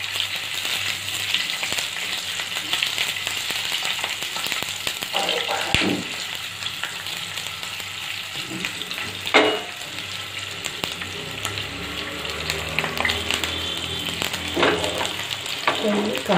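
Green chillies roast and sizzle in a pan for a spicy masala curry, producing a steady close frying hiss with occasional stirring scrapes and knocks, and a voice talking faintly at times.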